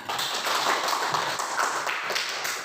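Students applauding in a classroom after a group discussion, a brisk, sustained patter of many hands clapping at moderate loudness with no voices over it.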